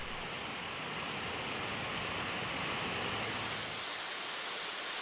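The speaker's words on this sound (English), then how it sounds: "Rushing water." Rushing water of a mountain stream or waterfall in the Great Smoky Mountains makes a dense, steady, loud roar of noise that holds unbroken throughout.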